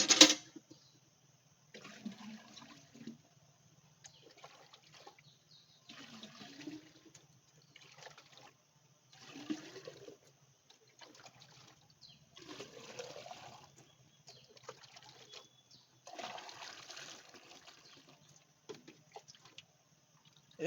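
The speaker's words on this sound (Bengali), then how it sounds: "এবার কলসিটাতে জল ভরে দিই" Water is poured into a clay pot in short, faint, intermittent splashes and trickles, with pauses between each pour.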